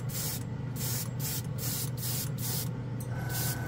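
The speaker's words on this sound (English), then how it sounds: "There goes the old compressor." An airbrush driven by an air compressor sprays AK Real Color paint in short repeated bursts, each a bright close hiss with brief pauses between them, over a low steady motor hum.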